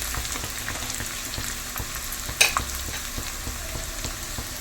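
Onions sizzle steadily in hot oil for a Kerala-style coconut curry, a continuous close crackle with a brief sharper burst of spattering midway and no voices.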